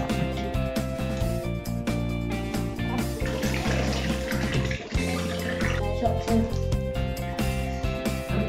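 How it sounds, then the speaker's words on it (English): Water pours steadily from a tap into a bath filled with green bath slime, a continuous splashing rush with a few knocks and clunks mixed in. "let's put some water in."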